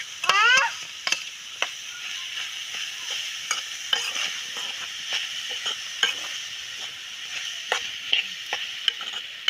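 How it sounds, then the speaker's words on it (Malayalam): A spoon stirs grated coconut, garlic and crushed chili in a pan. Soft scraping strokes repeat irregularly over a steady bright sizzle of frying, close by and with no talking. "നല്ലോണം ഇളക്കി കൊടുക്കുക."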